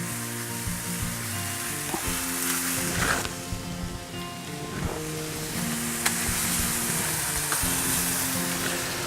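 Texas Wagyu skirt steak searing in butter and olive oil, a steady close sizzle and crackle with bursts of spitting fat and a few faint pan knocks throughout.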